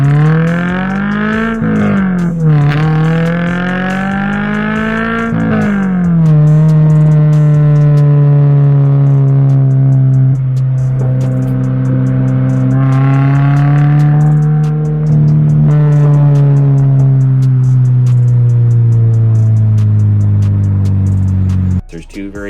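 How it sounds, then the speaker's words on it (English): A Subaru BRZ engine revs loudly through a throaty AWE track exhaust, rising in pitch with several sharp blips, then settling into a sustained drone. "he starts off with a AWE track exhaust"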